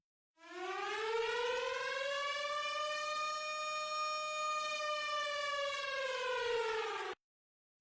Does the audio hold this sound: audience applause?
no